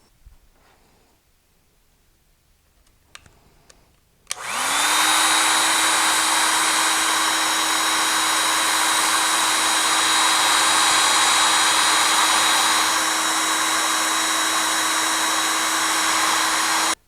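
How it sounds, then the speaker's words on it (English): A heat gun switches on after a few quiet seconds of handling noise and then blows with a steady, loud whine and rush, shrinking heat shrink tubing over a car wiring harness, with no talking. "now all I need to do is get this heat shrink melted on"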